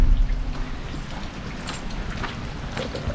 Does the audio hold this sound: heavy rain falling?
yes